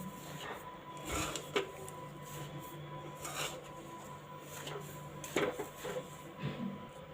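A spoon stirs and scrapes atta laddoo mixture with boora sugar in a pot. Irregular rubbing strokes are broken by light metallic clinks and knocks against the pot, close by, with no talking.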